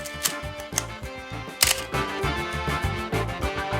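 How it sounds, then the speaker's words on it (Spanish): A Canon AE-1 film camera fires its shutter several times, each release a crisp mechanical snap close up, with irregular clicks and winding noise in between. "se inspiró en este sonido de obturador"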